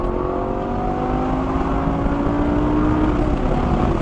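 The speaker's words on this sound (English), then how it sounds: "Sounds so good. Gorgeous exhaust note." A 2012 Lamborghini Gallardo LP 560-4 Spyder gives a loud, continuous exhaust note. The engine tone rises steadily as it accelerates, with no talk over it.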